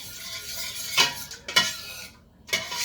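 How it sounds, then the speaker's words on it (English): Braised beef stirred in a pot with a utensil, with a few sharp scraping clinks against the pot over a low steady background, no talking. "Just stir this up a bit."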